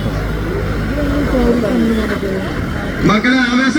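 An old jeep runs fast around a muddy field at a vandi poottu off-road event in Kondotty, Malappuram, Kerala, its engine a steady low rumble beneath a loud announcer's voice on a public address system.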